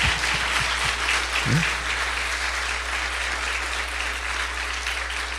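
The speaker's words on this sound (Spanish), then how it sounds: "Denle un aplauso al Señor, ¿no?" A church congregation applauds, dense sustained clapping filling the room for over five seconds with a low steady hum beneath and a brief murmur early on.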